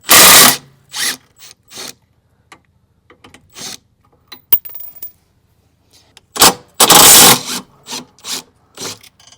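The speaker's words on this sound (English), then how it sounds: "I'm going to use my impact gun. It's a 15mm socket." An impact gun with a 15mm socket removes bolts while a front skid plate is fitted to a new Land Rover Defender. There are two loud, rattling bursts near the start and after a pause, with shorter mechanical clicks and rasps in between.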